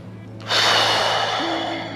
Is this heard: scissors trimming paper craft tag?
no